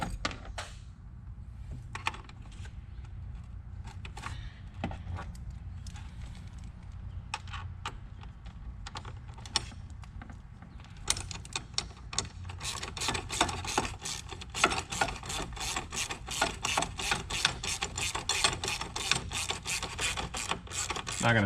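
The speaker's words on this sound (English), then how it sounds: "we're going to have to tighten this up with our wrench and our ratchet" A wrench and ratchet tighten a 10mm nylon lock nut on an oil separator bracket on a 2018-2020 Ford truck, giving close, rapid mechanical clicks that grow quicker and denser in the second half, with no talking.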